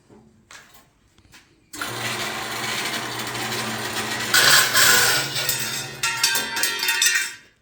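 A metal bandsaw cuts metal pieces in a workshop: after a quiet opening, a steady, loud grinding whir starts and runs continuously to the end, briefly getting harsher midway through the cut.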